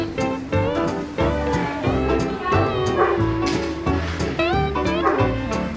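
Large long-haired Newfoundland dog near a restaurant window, giving a busy run of whiny yips, barks and rising whimpers, loud and close, with a restless pitch that keeps sliding up and down.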